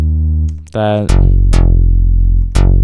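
A deep, distorted synth bass line from a 2000s-style beat enters after a brief spoken word, sounding loud, sustained notes retriggered at steady intervals with sharp bright attacks.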